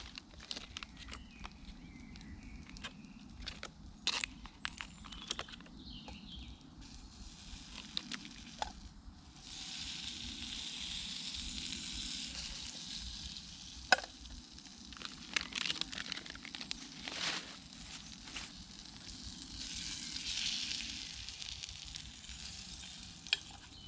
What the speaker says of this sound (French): On va peut-être ajouter du beurre. J'espère que le beurre crame.